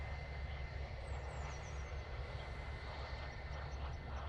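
Ryanair jet rolling for takeoff to Dublin at Manchester Airport, a steady broad engine roar and low rumble heard from a distance, continuous and even throughout with no talk.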